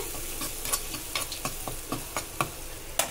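Maggi noodles with masala frying in a pan, stirred with quick, uneven scrapes and taps over a steady low sizzle, close and moderately loud.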